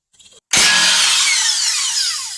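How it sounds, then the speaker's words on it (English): A single sharp metallic hammer strike on a Lexus ES300 steering knuckle to free the outer tie rod end rings out, leaving a long bright shimmering decay, preceded by a brief faint scrape. "applying some hammer blows over here, we should be able to vibrate the outer tie rod end off"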